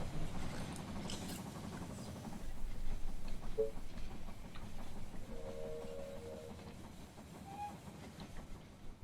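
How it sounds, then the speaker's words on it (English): Train arrival at a station in the strategy game They are Billions: a quiet, steady rolling rumble with faint clatter and a few brief tonal chimes, no talk. "The train has arrived at the station."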